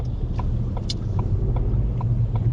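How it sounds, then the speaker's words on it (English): A lorry moving in road traffic at a roundabout on Trench Lock, heard as a steady low engine rumble from inside a car, with faint clicks over the top and no talking. "See, there's a lorry moving there."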